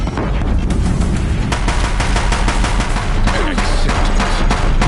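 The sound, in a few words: gunfire from Bringers in Horizon Zero Dawn video game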